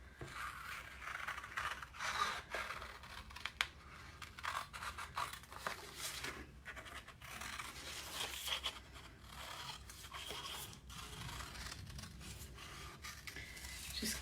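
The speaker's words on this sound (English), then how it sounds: "Just cutting it out." Scissors cut out a paper template for a paper rose craft, a long run of close, snipping and rustling cuts with irregular pauses and no speech.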